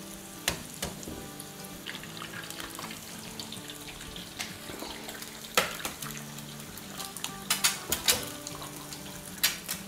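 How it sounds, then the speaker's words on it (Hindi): Two eggs sizzling in hot oil in a frying pan, a steady crackling hiss broken by sharp pops and spatters, close and moderately quiet with no talking. "यहाँ जो हमारे पास ऑयल रखा हुआ है इसमें हम डालेंगे"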